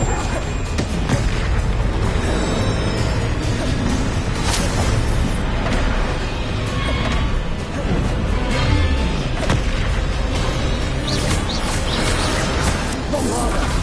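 Bombarda blasting spells and fiery Incendio casts in Hogwarts Legacy, a dense, continuous stream of booms, crashes and thuds layered under game music and ambience, loud throughout with no pause.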